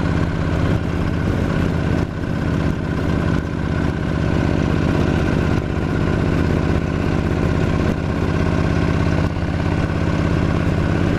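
A dirt motorcycle with plenty of grunt climbs a forest trail hill in Talladega National Forest under throttle. Its engine drones loud and close, holding a steady, unbroken roar throughout with no voices.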